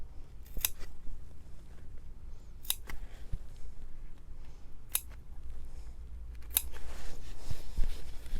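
Four separate snips of scissors cutting slits in fabric for a bridle bag, spaced a couple of seconds apart, close and crisp over a low steady background hum.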